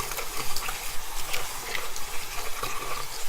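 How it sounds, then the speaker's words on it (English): Running tap water splashes steadily over natural-hair makeup brushes as they are rinsed, a soft continuous gush with small fluctuating splashes, close and fairly quiet. "And now to rinse."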